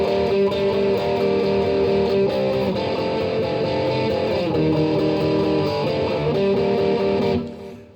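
Overdriven, distorted electric guitar riff from a song, a dense sustained wall of crunchy tone played continuously and loud, with no voices, cutting off near the end.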